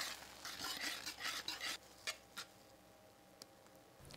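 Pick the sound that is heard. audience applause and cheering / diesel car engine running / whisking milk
whisking milk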